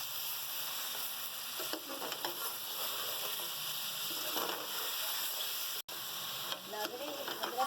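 Tomatoes with ginger, garlic, salt and turmeric fry in a karahi as a chicken karahi masala, giving a continuous soft sizzle with scattered stirring scrapes, close and moderately quiet, with one brief cut near the end.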